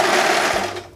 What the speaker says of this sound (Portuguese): E agora sim eu vou passar uma costura para fixar a minha manga na cava.